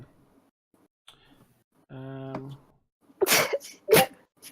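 Two quick allergy sneezes burst out close and loud, one right after the other, following a short hum and faint background murmurs.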